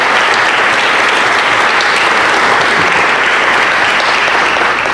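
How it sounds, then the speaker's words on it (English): Loud, dense audience applause follows a community revitalization panel discussion, with many hands clapping steadily and close by throughout, and no voices standing out. "Let's give a round of applause."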